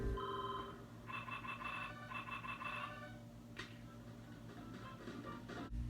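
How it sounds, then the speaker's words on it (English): A quiet electronic sheep ringtone in the game WarioWare plays a repeating chiming melody in short bursts over a low background hum. "time for another ringtone from Disco Stew. This time it's a sheep"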